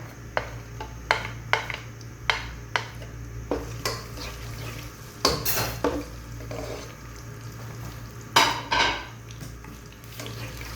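Soft sizzling of ginger and garlic in oil in a pan over low heat as a utensil scrapes and clinks against it several times, close up with no talking.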